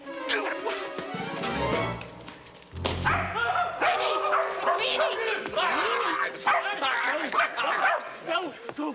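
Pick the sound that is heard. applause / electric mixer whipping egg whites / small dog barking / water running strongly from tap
small dog barking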